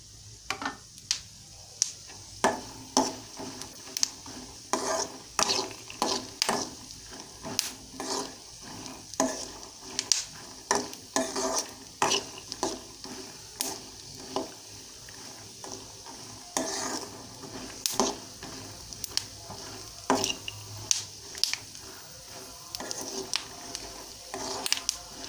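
Peanuts roast in a pan for peanut chutney, giving a steady run of scraping stirs and soft rattling clicks against the metal. The strokes repeat irregularly over a low sizzle, and no one speaks.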